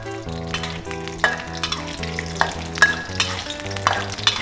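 Cashew nuts are stir-fried in a pan, with a busy sizzle and repeated stirring scrapes and taps over a steady tonal background hum, and nobody speaking.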